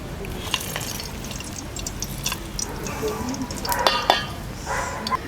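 Whole spices, among them cinnamon, green and black cardamom, cloves and black peppercorns, dropped into hot oil for a dhaba-style chicken curry, giving a low steady sizzle with light crackles and clinks of stirring.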